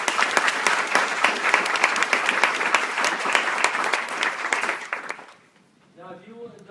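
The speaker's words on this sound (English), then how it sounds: "Can I get a round of applause for those two gentlemen?" A room of attendees at a town board meeting claps for two absent gentlemen, brisk, even applause lasting about five seconds before stopping abruptly, followed by a person beginning to speak.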